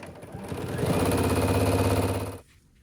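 A sewing machine doing free-motion quilting across a quilt, its needle stitching in a rapid, steady mechanical chatter that runs for about two seconds and then stops abruptly.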